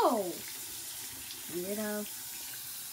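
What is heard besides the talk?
water running from a tap for washing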